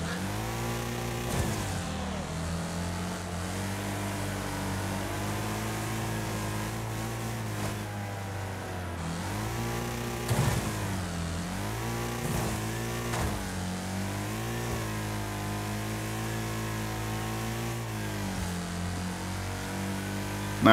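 Racing car engine in the Wreckfest video game revs steadily and loudly throughout, its pitch climbing and dropping with gear changes and throttle, with no talk over it.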